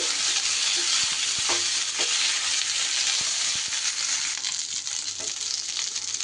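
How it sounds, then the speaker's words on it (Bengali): Food with coriander leaves fries in a little oil as it is stirred, a loud, constant sizzle broken by scattered scraping clicks of the stirring utensil, with no voices. "একটু নাড়াচাড়া করে এইভাবে ভাজা ভাজা করে নিতে হবে"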